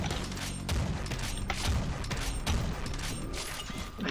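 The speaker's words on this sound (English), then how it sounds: "It's a homing missile launcher." A homing missile launcher in the shooter Mars Undying fires repeatedly, each launch a heavy thump followed by a mechanical clatter. The shots come at an even pace of roughly one per second, loud and close, with no talking.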